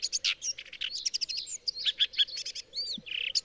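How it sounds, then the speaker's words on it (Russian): A male red-backed shrike sings a rapid, varied run of chirps, twitters and scratchy notes, close and clear over quiet background, continuous for several seconds. "Песня хорошо дополняет изящную окраску самца и напоминает нам, что сорокопуты не имеют никакого отношения к хищным птицам"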